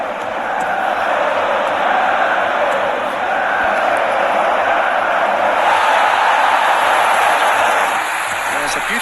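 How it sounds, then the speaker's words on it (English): A stadium crowd in an eFootball match roars steadily and loudly for the full stretch as one dense wall of cheering. The din swells slightly midway and then eases back near the end. "Certainly gave this crowd something to really cheer about."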